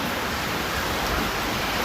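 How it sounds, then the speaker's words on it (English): Heavy rain pours down during Hurricane Melissa in Jamaica, a loud, steady broadband hiss of water with no breaks, close and constant throughout. "It just started raining and getting a little windy."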